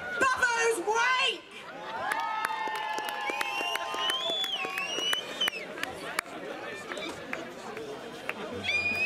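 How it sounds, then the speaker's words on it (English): An outdoor festival crowd cheers and applauds a band at the Heart of Devon Festival in Bow, 2016, with scattered claps, whistles and shouts over busy chatter that fills the whole stretch. "give a massive round of applause and a big cheer for people who are already my best friends in the world"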